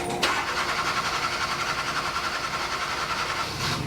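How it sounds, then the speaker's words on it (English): Car engine cranking over continuously in an extended crank after stalling, a steady rapid whirring churn lasting several seconds, close and fairly loud with no voices. "That's an extended crank."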